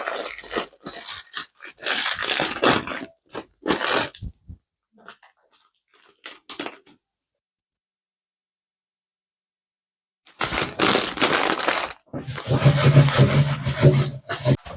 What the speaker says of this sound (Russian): Мы сейчас смешаем с панировочными сухарями.